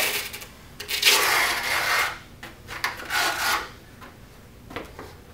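Carpet pad being pulled out of a ball polisher platter, several rough scraping and tearing rubs in uneven bursts, close and fairly loud, with brief pauses between pulls.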